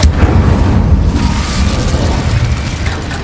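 Deep booming burst from an Incendio fire spell in Hogwarts Legacy, loud and close, with a rumbling roar that holds steady for about three seconds.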